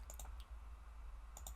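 A computer mouse double-clicks while working in LabVIEW NXG software, giving two quick pairs of faint, sharp clicks near the start and another pair near the end over a low steady hum.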